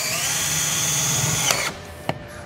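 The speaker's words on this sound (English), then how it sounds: "you're gonna take your 1/4-inch chuck and you're gonna screw them down to the roof" A power drill with a 1/4-inch chuck drives screws down into a roof, producing a loud, steady high whine that cuts off abruptly, followed by a sharp click.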